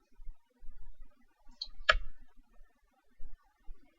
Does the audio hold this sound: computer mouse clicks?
yes